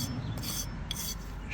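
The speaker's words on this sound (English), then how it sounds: "after stuffing the mortar in the crevice, I use this finishing tool" A finishing tool scrapes and presses mortar into the joints between brick steps, giving short rasping strokes at close range with no talk.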